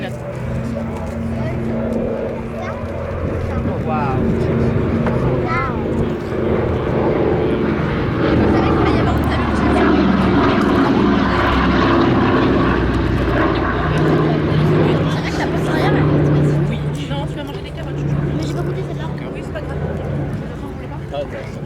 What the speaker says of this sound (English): C-47, C-53, R-4D, Dakota, call it what you will